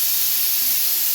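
Steam hisses steadily from a pot of boiled potatoes, a brief, loud, even rush of airy noise with no breaks or voices.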